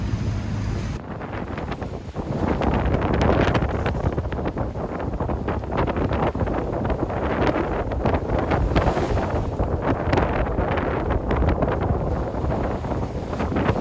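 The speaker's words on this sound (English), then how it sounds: "The wind picks up." Wind rushes past a sailboat making a passage from New Zealand to Australia, a strong, continuous buffeting roar with microphone wind noise and the wash of water, steady throughout with no voices.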